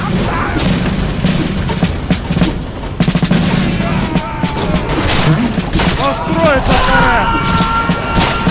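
Cannons fire in a video game, heard as a burst of booms and crashing impacts in the middle and later stretches, loud and close, mixed with excited talk and game sounds.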